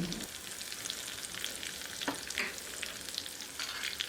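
Sesame seeds, chopped green chili and curry leaves crackle and sizzle steadily in hot oil for a tempering, with occasional louder pops and stirring sounds, close up and without talk.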